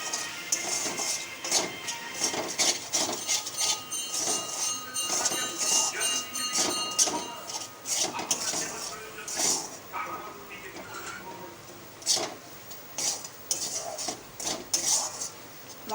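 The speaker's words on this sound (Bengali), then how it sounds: "দিয়ে দিলাম এটা মশলাটা দিয়ে একটু কষিয়ে নেব" Chilli, turmeric, cumin, coriander and garam masala sautéed in oil in a pan, heard as repeated metal clinks and scrapes of a utensil against cookware over a soft frying hiss, with brief irregular pauses between strokes.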